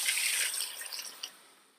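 Hot tap water pouring into a soup pot for roasted tomato and bread soup, a short bright splashing rush that tapers off and fades within two seconds.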